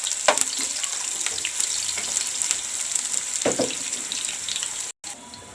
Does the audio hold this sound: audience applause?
no